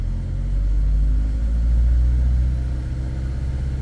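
A car engine revs hard with a loud, steady low rumble, and a turbocharger builds boost during the rise, held for several seconds at close range with no talking.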